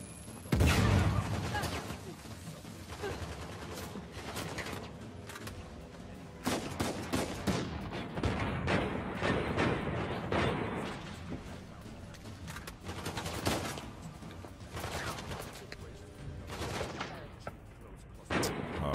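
Rapid video game gunfire, with bursts of shots and repeated sharp cracks over a dense, busy soundscape that runs the whole time; voices occasionally mix in.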